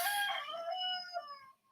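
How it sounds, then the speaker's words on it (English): A rooster crowing nearby, one loud drawn-out call that fades at the end, heard alone. "it's my rooster"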